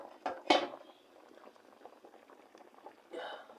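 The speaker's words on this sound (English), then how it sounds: "So cover it, allow our yam to boil." Yam boiling in a covered pot, a steady bubbling patter with a sharp clank near the start, as of a lid or pot being handled, and a brief louder burst of bubbling toward the end.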